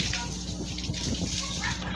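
Free-flowing natural spring water gushes steadily in a continuous rushing splash, close and fairly loud, with voices faintly in the background.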